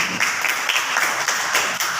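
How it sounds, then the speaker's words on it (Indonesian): A classroom of students applauds group 1, a steady patter of many hands clapping close by with little talk. "Silakan kita beri aplaus untuk kelompok 1."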